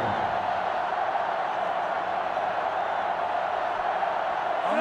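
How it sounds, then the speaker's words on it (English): Steady roar of a sellout stadium crowd in the college football video game NCAA Football 2005, a dense even wash of cheering and shouting that holds at the same level with no clear peaks. "This sellout crowd is really making a difference now"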